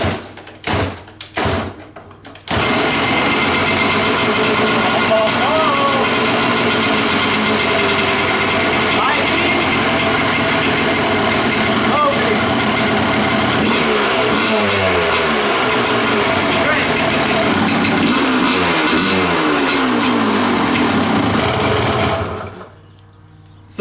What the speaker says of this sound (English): I think testing this warrants an engine start.